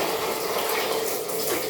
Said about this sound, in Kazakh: Так, су толтырамыз.